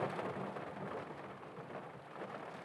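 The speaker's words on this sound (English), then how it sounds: "and you hear the thunder." Steady rain falls on a dark night, thunder rumbling low beneath the constant hiss of the downpour throughout, with no voices.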